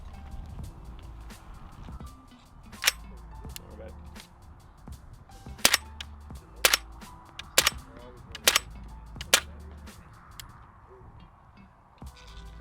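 Suppressed 300 Blackout subsonic rounds fired through a Noveske Chainsaw suppressor outdoors, a series of about eight sharp, muffled cracks spaced irregularly over quiet background, with occasional faint shuffling between shots.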